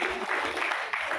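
A crowd at a commemoration event gives enthusiastic applause, a brief, continuous wash of clapping.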